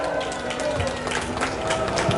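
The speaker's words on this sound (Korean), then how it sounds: "큰 박수로 맞아주시기 바랍니다." Audience at a Korean patriotic rally in Jecheon applauding, a dense, continuous patter of clapping from a crowd, fairly faint and steady through the short stretch.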